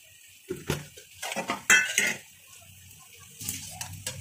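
A spoonful of sour yogurt goes into a dish on the stove, heard as a few light spoon clinks and scrapes against a pot, spaced irregularly, close and fairly quiet, with no talking.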